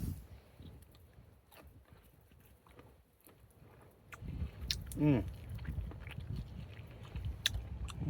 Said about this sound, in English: Try one of these shrimp to make sure that they're done.